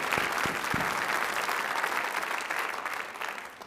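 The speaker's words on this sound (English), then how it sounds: "Give them another round of applause." Audience applause for dancers at a Burns Night celebration, a steady wash of clapping from a crowd that stays loud throughout and fades slightly toward the end.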